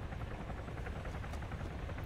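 Helicopters in the military game Arma 3 produce a constant, loud, low rotor drone with a dense rhythmic chop, and no voices are heard over it.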